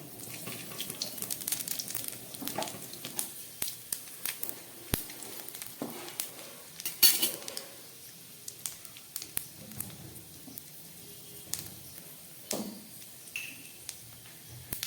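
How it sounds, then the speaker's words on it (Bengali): A bay leaf and panch phoron dropped into hot oil in a pan crackle and sizzle quietly. The texture is fine and steady, broken by scattered small pops and ticks, with no voices. "দিয়ে দেবো একটা তেজপাতা, আর দিয়ে দিচ্ছি একটু পাঁচফোড়ন"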